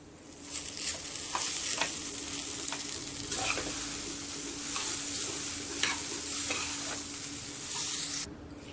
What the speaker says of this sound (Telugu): కొద్దిగా పసుపు వేసుకోవాలండి వేసుకుని అంత కలుపుకోవాలి